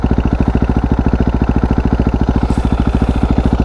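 Husqvarna 701 single-cylinder motorcycle fitted with a Wings exhaust, baffle removed, thumping loudly and close in a rapid, even pulsing beat with no voices.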